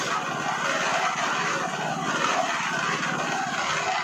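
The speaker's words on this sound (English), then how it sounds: "the mixer was very noisy there, in a confined space at the end of the piggery" A loud, steady mechanical rumble of a cement mixer churns continuously, close by in a confined space at the end of a piggery, with a broad grinding roar and no pauses.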